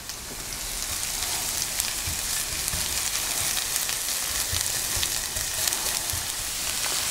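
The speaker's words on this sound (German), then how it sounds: "Wenn die Pfanne dann schön heiß ist, werden wir anfangen, dass wir hier unsere Zwiebeln hineingeben und unseren Knoblauch." Onions and garlic sizzle and fry in a hot cast-iron Dutch oven, a steady dense crackle close by with no talking.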